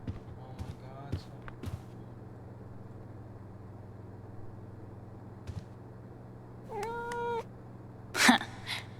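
Cat meows from the video game Life Is Strange: several short mews early on, then a longer drawn-out meow and a sharp loud yowl near the end, over a low steady hum.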